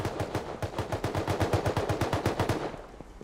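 Rapid automatic gunfire in the survival video game Rust, a sustained burst of about twenty evenly spaced, loud, punchy shots that stops abruptly, with no talking.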